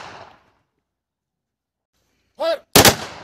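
A ceremonial rifle volley for a CRPF funeral salute cracks out as one loud, sharp report near the end, just after a shouted command and a long silence.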